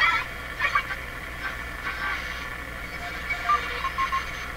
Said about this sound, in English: That's a lot of ham radio guys doing CW